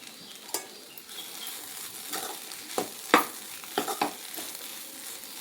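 Idli manchurian being stirred in a hot pan after coriander leaves go in, a soft steady sizzle with a handful of scraping and clinking spoon strokes against the pan, close and without talk.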